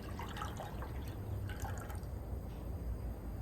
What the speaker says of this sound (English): And pour some more water in.